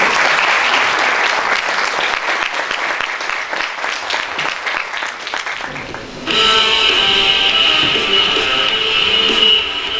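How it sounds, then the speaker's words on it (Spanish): Audience applause fills a lecture hall for arriving guests at a university talk, a steady dense clapping that runs throughout, slightly thinning midway before swelling again near the end. "Les damos una bienvenida, ¿verdad? Con un aplauso."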